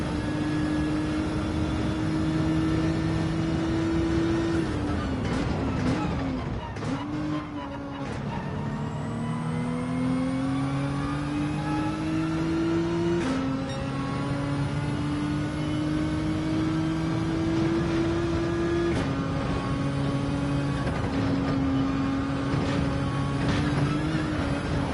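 Race car engine in Gran Turismo 7 during a GTWS Manufacturers Cup race: a sustained high-pitched whine that climbs with acceleration, drops briefly at downshifts under braking and rises again through the gears, loud and continuous.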